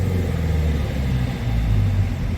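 After the accelerator pedal is released, a car engine rumbles on at a lower, uneven level, close and continuous, with no voices over it.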